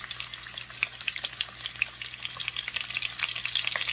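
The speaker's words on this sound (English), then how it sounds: "Yes, I'm putting just the pork chops in there." Pork chops frying in oil in a pan, a steady dense sizzle with crackling pops throughout, close and fairly loud, no talking.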